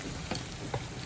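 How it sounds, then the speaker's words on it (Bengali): Food fries in hot oil in a pan over a medium gas flame, a soft continuous sizzle with two brief louder crackles, close and without talk. "ভাজাটা সুন্দর হচ্ছে।"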